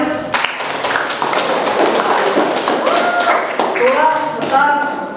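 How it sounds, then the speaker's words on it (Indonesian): A classroom group applauds together, steady clapping and tapping filling the whole stretch at close range, with voices talking over it. "Tepuk tangan untuk semuanya"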